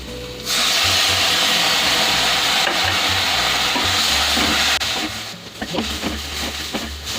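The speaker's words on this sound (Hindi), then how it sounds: "इसको फ्राई करते हुए मुझे 5 मिनट हो गए" Stuffed green chilies fry in a pan with a steady, fairly loud sizzle, broken by the scrape and clatter of stirring near the end. Nobody speaks.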